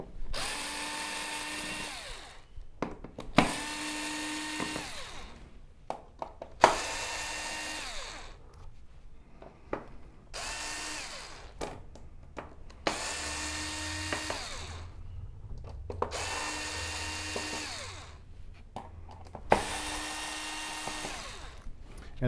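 A power screwdriver backs screws out of the main board of an LG OLED65A1PUA television, whirring in about seven separate bursts of a few seconds each with short pauses between them, close by and with no talk.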